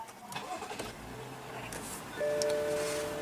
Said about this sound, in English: what you're hearing is that 3-liter inline 6-cylinder turbo powertrain